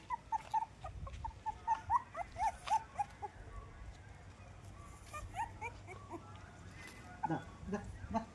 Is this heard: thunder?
no